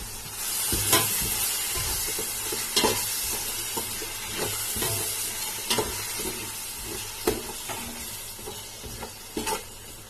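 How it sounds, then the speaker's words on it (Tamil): Mint and masala stir-fried in a pan for Karaikudi Chettinad mutton biryani, sizzling steadily up close as a spoon scrapes and stirs in repeated strokes. "இப்போ வதக்கிடலாம்."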